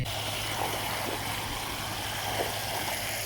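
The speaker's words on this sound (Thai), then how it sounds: "น้ำไหลผ่านมาจากข้าง" Floodwater flows past a village in Yasothon province, Thailand, a steady broad rushing wash of water heard close and continuous, with no one speaking.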